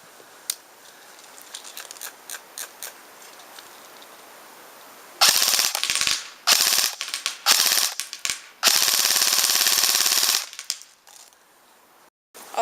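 A KWA M4A1 airsoft rifle fires on full auto in several loud, rapid bursts, preceded by a few faint mechanical clicks, with the longest burst running about two seconds and a quieter stretch before the final crack.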